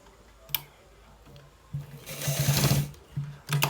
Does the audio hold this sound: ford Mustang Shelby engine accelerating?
no